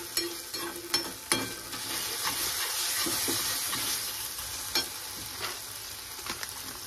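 Ginger garlic paste sizzles and fries in hot oil as the base for a fish gravy, a steady bright hiss broken by the clicks and scrapes of a spoon stirring the pan.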